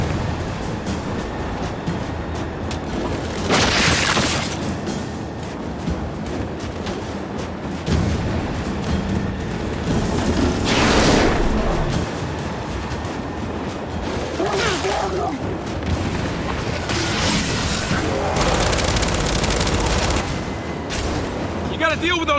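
Enemy turrets in the Gears 5 campaign firing in heavy repeated bursts, with gunfire and loud blasts over steady battle noise and speech running throughout.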